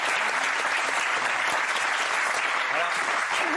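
Steady, dense audience applause in a television studio, loud and continuous throughout with no breaks, a wash of many hands clapping together.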